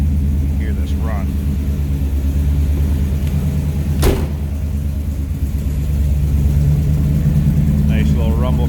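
A deep, steady Chevy 350 V8 engine rumble from a 1950 Chevrolet Bel Air runs throughout, with brief voices faintly over it and a short sharp burst near the middle.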